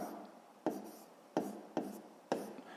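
Pen or pencil writing a fraction by hand on paper during a sixth-grade math exercise: four crisp, close strokes land at uneven intervals, each fading quickly into quiet scratching, with no voice.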